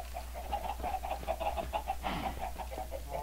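Video game chickens cluck in a quick, repeating series of short clucks over a low steady hum, moderately close, with no talking.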